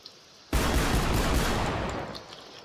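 A shotgun fires in the Garry's Mod video game: one sudden loud blast that turns into a broad, roaring tail lasting about two seconds and slowly fading, with faint background game noise before it.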